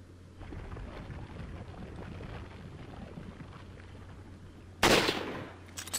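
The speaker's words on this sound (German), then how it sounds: "das Gewehr kann ich ja eh irgendwann leer schießen" A rifle fires in the video game Resident Evil 4, with one loud burst of gunfire near the end that leaves a short decaying tail, heard after several seconds of low rumbling ambience.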